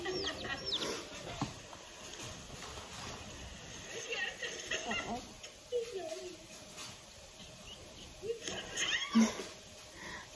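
A cat meows and yowls several times amid a cluttered background, with scattered cries near and mid-distance and a person talking intermittently underneath.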